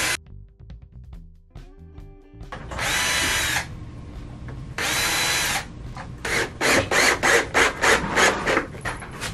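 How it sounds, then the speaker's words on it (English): A power drill pre-drills holes in a Rhino-lined subwoofer speaker box for a 2021 Dodge Ram, with two sustained whirring runs followed by a series of short rapid bursts, loud and close, with no talking. "It is a good suggestion to pre-drill the holes"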